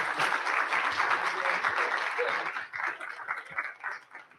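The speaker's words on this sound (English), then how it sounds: "But first, I think a big round of applause." A round of applause from a tech conference audience after a talk on making AI useful, dense clapping that holds steady for a couple of seconds before thinning and fading out.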